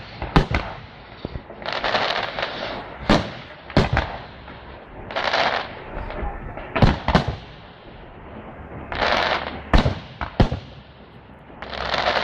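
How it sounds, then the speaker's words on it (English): Bonfire Night firework display at Snibson Discovery Park in Coalville, Leicestershire: sharp bangs and crackling bursts going off at irregular intervals, some in quick clusters, with fizzing hiss between them, heard from a middle distance without talk. "We get lovely fireworks out in our back garden."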